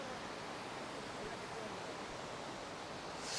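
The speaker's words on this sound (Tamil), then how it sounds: "இதோ என்னோட பக்கத்தில் நான் இப்போ தலியவாட்டின ஃபால்ஸ் பக்கத்தில் இருக்கேன்" A waterfall in Sri Lanka rushes with a constant broad roar of falling water, close and even, with no pauses.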